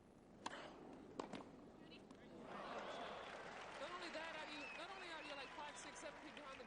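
Tennis crowd at the 1995 US Open women's final applauding, a soft patter of clapping that swells and carries on at moderate distance, with a couple of sharp knocks before it and commentary talk over it.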